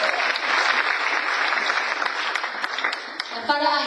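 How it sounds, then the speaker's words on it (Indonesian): A church congregation applauds loudly in continuous, dense clapping that fades as a speaking voice enters near the end. "Kita lagi tepuk tangan itu Tuhan."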